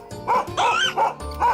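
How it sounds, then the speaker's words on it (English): A dog barks in a quick run of four or five close, loud woofs with short gaps between them, heard alone without talk. "That's a dog barking."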